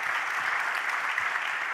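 Applause for the panelists at an agriculture Earth-observation workshop, a steady even patter of many hands clapping throughout, moderately loud and without speech.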